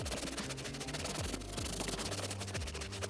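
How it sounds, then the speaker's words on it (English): A microfiber cloth scrubs a stain on a car's carpet, giving a fast, continuous rubbing and scratching texture, close and faint, with no voices. "take a microfiber or a scrubby, whatever you got that's semi-clean, and then try to just scrub it off"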